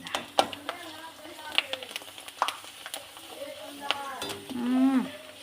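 Potato papad crisps frying in hot oil, with a sharp crackle of bursts and taps and a louder bubbling hiss near the end.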